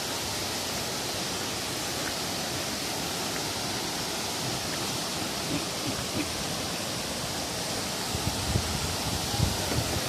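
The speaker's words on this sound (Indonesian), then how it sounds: "Deras airnya, bro." Fast, rushing river water on the trail down to Coban Pelangi waterfall makes a dense, steady roar that fills the whole scene, close and unbroken, with no voices over it.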